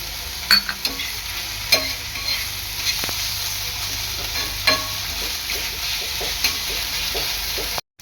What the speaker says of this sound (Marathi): 1 ते 2 मिनिटं आलं लसणाची पेस्ट चांगली परतून घ्यायची आहे।